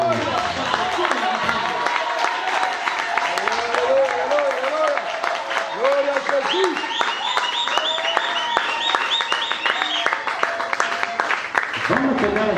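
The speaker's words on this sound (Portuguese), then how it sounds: "Palmas fortes para a glória de Deus." A church congregation at a Portuguese-language service applauds loudly and continuously, with music and singing-like tones running beneath the dense clapping.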